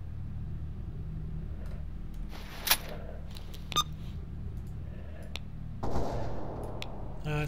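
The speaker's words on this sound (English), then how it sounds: "It's double barrel." Double-barrel shotgun fire in the video game S.T.A.L.K.E.R. Anomaly, a few sharp, separate blasts over a low rumbling game ambience, with a heavier burst near the end.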